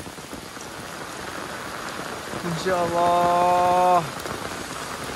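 Steady rain falls in a village as a broad, even hiss, while a brief spoken word and a sustained harmonic tone rise above it partway through.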